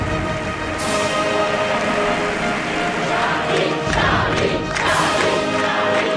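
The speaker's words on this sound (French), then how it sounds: "on entend la foule qui applaudit ses chefs d'État" Crowd at a demonstration applauding heads of state: dense, sustained applause and crowd noise, loud and steady throughout, with occasional sharper bursts and a background murmur.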